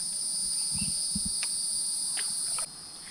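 Cicadas drone in a steady, continuous high buzz from nearby trees beside a lakeside spot, holding constant before dropping off sharply near the end, with a few soft low thumps underneath.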